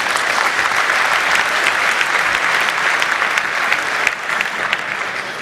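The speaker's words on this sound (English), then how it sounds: "Give him an applause." An audience at a hacker conference claps steadily and densely for about five seconds, a loud, even wash of many hands with no voices rising above it.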